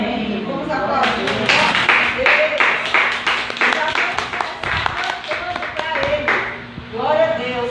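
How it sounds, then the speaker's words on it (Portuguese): Rhythmic clapping and applause at a church worship gathering keep going while a voice speaks and sings over the clapping throughout. "Vamos aplaudir."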